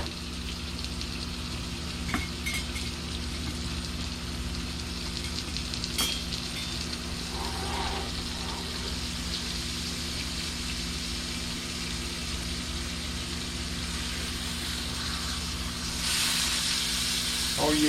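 Pork chops seasoned with black pepper sear in a hot pan, giving a steady, close sizzle and hiss throughout with a few brief clinks and scrapes, swelling louder near the end.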